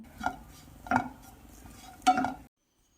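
Ground peanuts and garlic are stirred in a pan, making three brief scraping clinks of a utensil against metal with quiet gaps between them.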